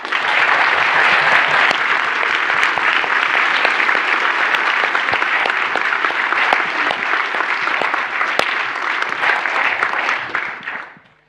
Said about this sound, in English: I'd like to ask for one more round of applause for all of them.